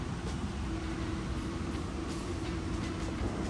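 A Tri-Rail commuter train runs along tracks in South Florida, heard from inside as a steady, loud low rumble with rattling and no break.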